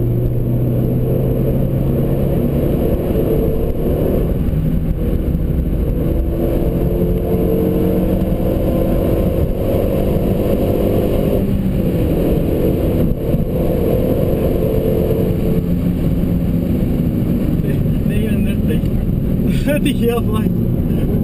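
A car accelerates hard around the Nordschleife track, its engine a steady, loud roar that holds for about twenty seconds, close to the listener and with no breaks.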